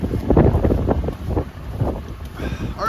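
Strong, cold wind buffeting outdoors beside an RV in sub-zero windchill, loud rumbling gusts battering the microphone in uneven waves, close and continuous.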